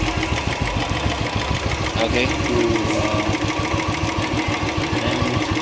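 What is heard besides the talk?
Royal Enfield Classic 350 motorcycle engine idling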